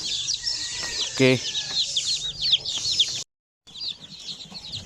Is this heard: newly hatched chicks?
yes